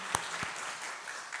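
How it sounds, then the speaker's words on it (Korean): Congregation applause during a Sunday church worship service, steady clapping from a crowd of worshippers, brief and fairly close. "우리 박수 한번 해주시기 바랍니다"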